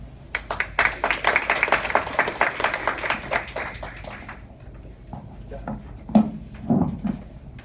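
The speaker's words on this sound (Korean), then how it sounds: "열정적인 발표를 해주신 박알선 박사님께 한 번 더 박수 부탁드리겠습니다" An audience claps after a presentation at a housing welfare conference, dense applause that thins out and fades into a few scattered claps and faint murmurs.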